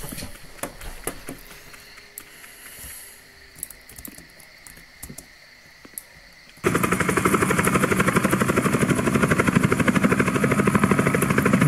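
A helicopter in the game Aniphobia starts after scattered clicks and taps and then runs as a loud, steady, rapidly chopping rotor roar that fills the second half.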